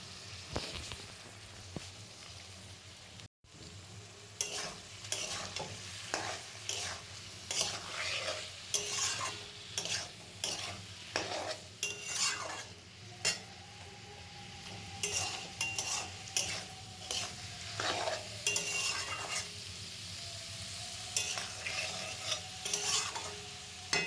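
Chicken and vegetables for chowmein are stir-fried in a pan, with repeated rhythmic scraping strokes of a spatula over a constant sizzle, close and fairly loud, with no talking.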